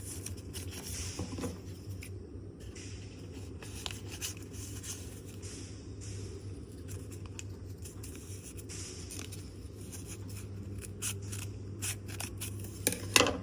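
Scissors snip through a paper shape in a quiet room, a run of soft, rapid cuts over a low steady hum, growing a bit louder toward the end.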